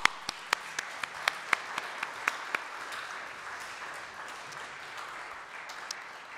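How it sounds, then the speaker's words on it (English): A church congregation at a Sunday service gives a dozen or so sharp, scattered claps in the first few seconds, then they thin out and stop, leaving a quiet room hum. "let's give ourselves and God a round of applause"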